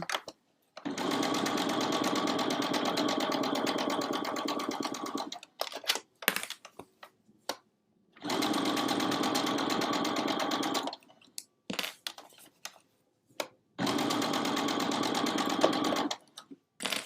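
Sewing machine stitching burlap for a stocking, running in three long steady bursts with short pauses and small handling noises between them.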